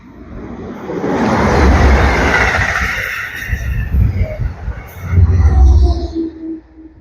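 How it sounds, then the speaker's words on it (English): An Albany passenger train rumbles past a station nearby, a loud sustained roar that swells, eases, then surges again before fading. "And here comes one of the passenger lines"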